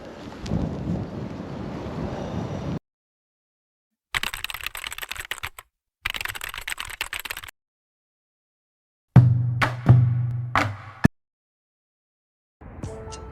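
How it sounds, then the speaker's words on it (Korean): Strong outdoor wind buffets the microphone at a lakeside bass-fishing spot in cold weather, coming in loud rumbling gusts separated by abrupt silent gaps, with a few sharp thumps near the end. "바람이 너무 많이 불어서 추워요"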